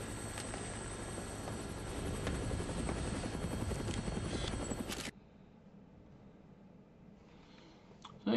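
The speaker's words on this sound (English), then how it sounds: "The helicopter was the way to go." Helicopter in the video game Dead Rising, a loud steady rotor chop and whine for about five seconds that then cuts off abruptly, leaving a quiet background with a faint click near the end.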